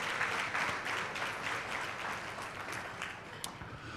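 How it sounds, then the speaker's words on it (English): A gala audience at an achievement celebration claps in fairly quiet, distant-sounding applause, an even patter of many hands that holds steady with a few sharper individual claps near the end. "Let's give him a round of applause."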